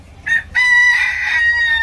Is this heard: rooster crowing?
yes